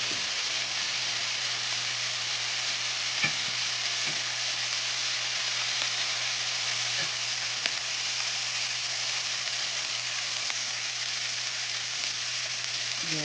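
Buldak spicy noodles cooking in a pot, a soft steady sizzle and bubbling with occasional small ticks, continuous and fairly quiet without voices.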